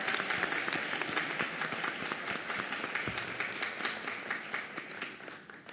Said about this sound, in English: Round of applause for these two graduating students here.